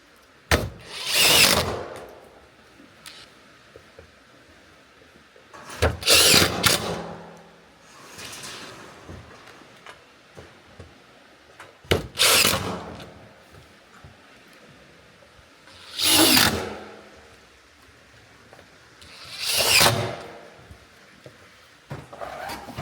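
Power drill driving screws into the wood of a barrel sauna, with about six separate rising bursts of whirring spaced several seconds apart and quiet handling sounds between, close, with no voices.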